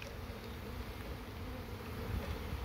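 Dense, steady buzzing of a swarm of honey bees as a three-pound package is shaken into a hive, close and continuous with no talking.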